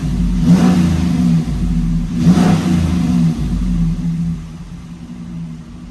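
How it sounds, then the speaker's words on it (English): A stock Hemi Ram truck revs hard on a dyno after an ethanol fuel kit, two loud throttle blips rising then falling over a steady deep engine rumble, close and without talk. "I can already feel the horsepower revving it."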